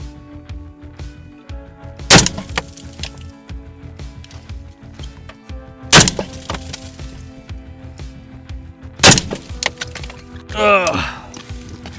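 An AR-15 rifle fires three 5.56 G9 55 grain rounds through clear car windshield glass, three sharp loud shots spaced a few seconds apart, with a brief whooshing sound near the end.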